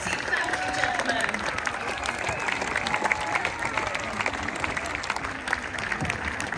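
Spectators at the Boodles tennis exhibition between Lorenzo Musetti and Roberto Bautista-Agut keep up steady, dense applause, with crowd murmur and a few cheers mixed into the continuous clapping.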